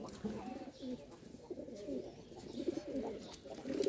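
Rooftop pigeons coo in a steady, overlapping murmur of low, throaty calls close by, continuing throughout without a break.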